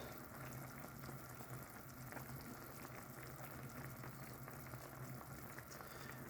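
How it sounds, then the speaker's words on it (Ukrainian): A pot of Cossack-style meat bubbles and simmers steadily, a continuous wet gurgling hiss with a low hum underneath, no voices. "Кипить, бачите."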